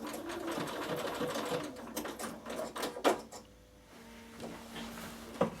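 Embroidery machine stitching a design and finishing at the end of the pattern, with a rapid busy needle clatter that stops, then a faint steady hum and a couple of clicks as it trims the thread.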